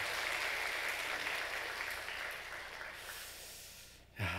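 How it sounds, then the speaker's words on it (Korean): A church congregation at a Sunday worship service in Daegu applauds in a thick, even wash of clapping that slowly tapers off, with a short vocal sound breaking in at the very end. "박수 한번 더 합시다."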